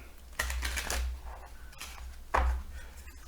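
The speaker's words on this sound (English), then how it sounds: "And we will just try to shuffle it" Tarot cards are shuffled in two short, quiet riffling bursts separated by a pause, with soft handling noise in between.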